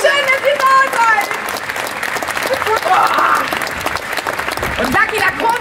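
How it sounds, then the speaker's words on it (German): Steady, dense applause from an audience at the opening ceremony of a state garden show in Torgau, greeting a children's choir. It runs loud and unbroken throughout, with some crowd noise mixed in. "Großen Applaus für den Lager Kinderchor."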